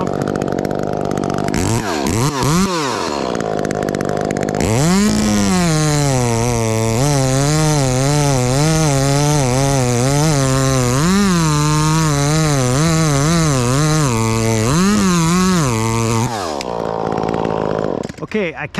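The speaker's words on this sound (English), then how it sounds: "I kind of move my saw, you know, back and forth to kind of feel if the kerf is closing on me" A chainsaw cuts close by through a standing tree and is worked back and forth in the cut. It revs up into a loud, wavering high whine that holds for a long stretch, then drops back to a lower idle. A person talks near the saw.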